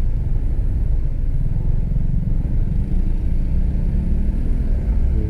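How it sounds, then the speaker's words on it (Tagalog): Heavy road traffic on Marcos Highway, cars and motorcycles packed together, makes a dense, continuous low engine rumble and drone that stays steady throughout with no clear pauses. "Traffic talaga."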